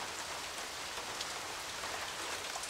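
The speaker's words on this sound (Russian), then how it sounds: "Ну, дождь." Steady rain falls outdoors as a dense, even hiss of drops on surfaces, continuous and moderately loud with no voices.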